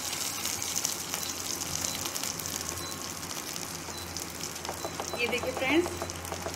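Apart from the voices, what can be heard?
carrots and capsicum stir-frying on high flame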